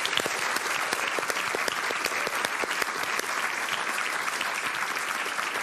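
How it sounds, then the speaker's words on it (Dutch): A studio audience claps steadily in dense, sustained applause for the two losing contestants on a Dutch television quiz show, loud and close throughout with no speech over it. "Applaus voor beide verliezers."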